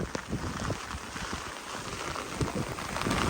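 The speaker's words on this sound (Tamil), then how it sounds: "பயங்கர காற்றும் மழையும் பாருங்க" Heavy rain pours down with dense pattering and gusty rumbling wind close by, a continuous loud wash of storm noise with no speech.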